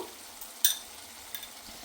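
Mutton frying in a pan of thick spiced gravy gives a soft, steady sizzle and hiss, with one brief louder pop and spatter partway through and no talking.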